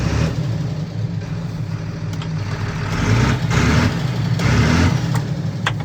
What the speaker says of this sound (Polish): Słyszycie ten dźwięk silnika?